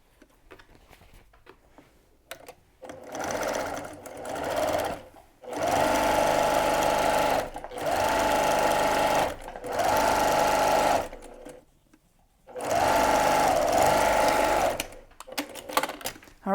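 A sewing machine top stitching a cross body bag runs in several steady bursts of a few seconds each, its needle chattering rhythmically, with short pauses between runs and some quiet handling noise at the start and end.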